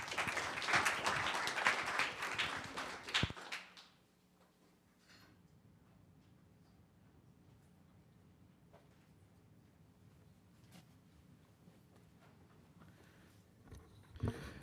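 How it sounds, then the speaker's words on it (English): Audience applause at a Los Gatos town council meeting: a dense, loud burst of clapping for about four seconds that cuts off abruptly, leaving a quiet room with faint ambient hum and occasional small clicks. "Another round of applause, please."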